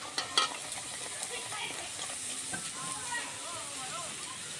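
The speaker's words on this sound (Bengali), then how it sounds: "আমি এবার লুচিগুলো ভেজে নেব" Pea-stuffed kochuri frying in hot oil in a kadai, a steady soft sizzle and bubbling with a few sharp spits near the start, close by and fairly quiet.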